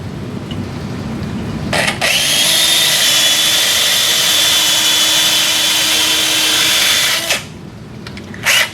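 A core drill bores holes into a Sawbones plastic wrist model, a loud steady high-pitched whine running for about five seconds alone, with quieter motor noise before and after.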